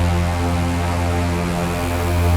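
Steady, loud drone of a BN2 Islander twin-engine propeller airplane in flight, heard from inside the cabin, with a constant low engine hum and prop beat throughout and no talking.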